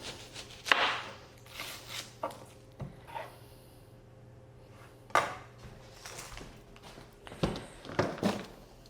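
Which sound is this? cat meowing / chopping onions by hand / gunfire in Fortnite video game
chopping onions by hand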